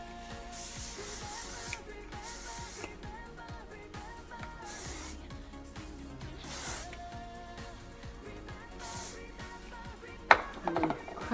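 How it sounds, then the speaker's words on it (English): Several short bursts of hairspray hissing from a can, spaced a second or two apart, fairly quiet against faint background music. "Give it a little spray."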